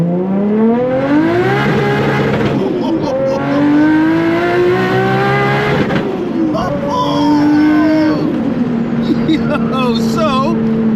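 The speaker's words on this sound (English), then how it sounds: "we get the draggy out, we do a 0 to 60" A fully built Nissan Skyline R33 GTS with a one-off custom exhaust accelerates from 0 to 60, its engine rising loudly through several gear changes with pops and bursts from the exhaust as people talk over it.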